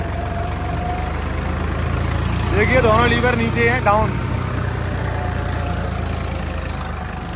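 A Swaraj 855 4x4 tractor pulls an 11-tine cultivator through a field, its engine giving a steady, loud low drone throughout, while someone speaks briefly over it.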